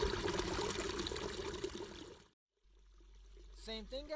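Steady rushing, splashing water fills the first couple of seconds with a dense, loud wash, then cuts to near silence before a softer stretch where a voice briefly speaks.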